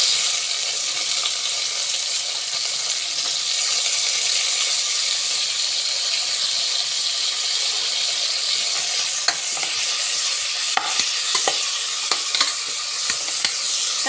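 Tomatoes sauté in a frying pan for tomato rice, a steady close sizzle running throughout with scraping stirring clicks from a spatula growing more frequent toward the end.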